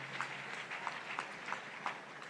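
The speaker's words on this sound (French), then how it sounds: "Applaudissons pour Jésus-Christ." Church congregation applauding after a prayer for healing, a soft, steady wash of clapping with a few louder claps standing out, heard from some distance.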